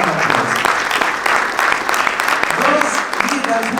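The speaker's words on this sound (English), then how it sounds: "Brother Mohammad Qatanani, Brother Forid Uddin, please stand up and give them a round of applause" Applause from an audience at a Paterson Muslim Heritage Month gathering honoring community leaders, with individual claps standing out amid the crowd and some voices mixed in underneath.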